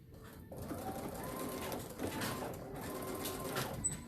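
A sewing machine stitches a quilt seam on a jelly roll quilt, its motor whirring in a continuous, slightly pulsing run after a brief start, close and clear with no speech.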